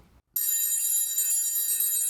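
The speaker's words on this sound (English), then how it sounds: "A phone call, Mr. G? Oh, yes, the phone call." A telephone rings with a steady, bright, continuous bell-like tone that starts abruptly after a moment of silence and holds loud and close.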